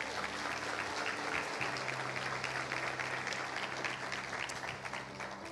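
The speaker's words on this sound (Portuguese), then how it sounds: "Você pode dar uma salva de palmas a Jesus" Steady applause from a church congregation clapping for Jesus during a worship service, dense and continuous with a low sustained tone beneath, fairly faint overall.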